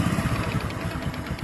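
A 125cc motorcycle engine idles at low rpm with a fault causing a ticking rattle, a close steady putter with quick repeating taps throughout.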